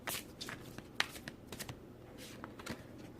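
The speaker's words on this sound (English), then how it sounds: "let me give this a couple more shuffles" Tarot cards being shuffled by hand, a run of soft papery riffles and slaps with brief sharper snaps, close and fairly quiet, no talking.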